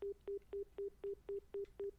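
Eight evenly spaced telephone dialing beeps from the video game Nekopara pulse in a steady rhythm, each short tone the same pitch, quiet and clean with no talk over them.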